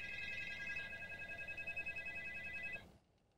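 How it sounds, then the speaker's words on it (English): A cell phone rings during a podcast recording, a steady, pulsing electronic tone held for nearly three seconds before it cuts off abruptly, leaving faint room noise. "That was a quick phone call."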